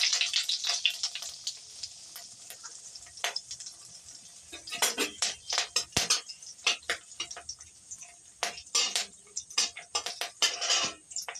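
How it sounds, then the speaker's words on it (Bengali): Whole cumin seeds and dried chillies hit hot oil in a pan, giving sharp crackles and sizzling bursts mixed with utensil clinks and stirring scrapes, sparse at first and then frequent and loud. "তেল গরম হয়ে গেছে, গোটা জিরে দেবো"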